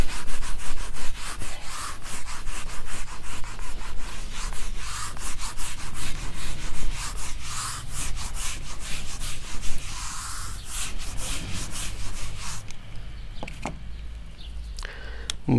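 Chalk or a duster is rubbed briskly across a classroom blackboard during a maths lecture, producing a continuous scraping, sanding-like rasp in quick strokes, close and fairly loud with no talk.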